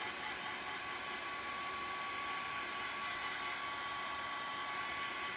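A hair dryer blows steadily and loudly throughout, drying a chalk-painted "Happy" DIY shirt before it is heat set with an Easy Press; the tone is an unbroken whir with no talking.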